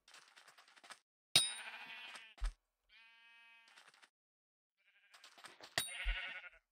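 Sheep minion from Hypixel Skyblock in Minecraft giving several short synthetic bleats in bursts, with a soft thud and sharp clicks between them, close and clear with no talking.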